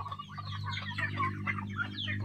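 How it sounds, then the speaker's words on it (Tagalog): Farm chickens clucking and squawking close by, with ducks kept alongside, busy overlapping calls over a low steady hum, fairly quiet. "dito kami sa mga alaga namin manok at saka patok."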